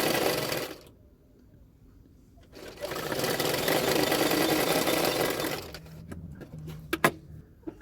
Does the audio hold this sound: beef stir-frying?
no